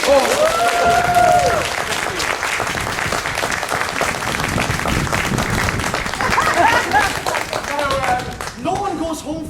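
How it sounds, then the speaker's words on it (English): A small tour group claps for a costumed performer on an evening ghost tour in Edinburgh, giving quick, close, fairly loud applause mixed with voices, cheers and laughter. "He deserves a clap into himself."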